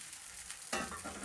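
Yogurt paratha frying in oil on a hot pan, a soft background hiss that swells into a louder, steady sizzle partway through, close and continuous with no talking.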